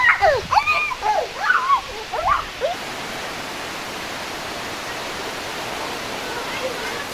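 Rain falls steadily in a village on a day of shifting sun and showers, a dense even hiss of drops that carries on alone after a voice speaks over the first few seconds.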